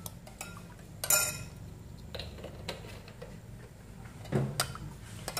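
A spoon clinks and scrapes against a bowl while stirring a sweet-sour pickling mixture with fish sauce, a few sharp taps separated by quiet stretches, close and soft.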